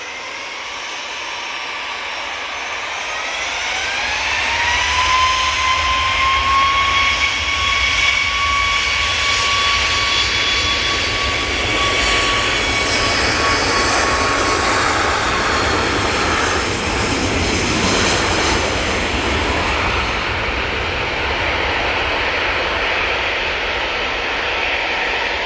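A Ryanair jet airliner departs Manchester Airport, its engines swelling from a distant whine into a loud, sustained roar with a rising tonal whistle, holding strong for a long stretch before slowly easing.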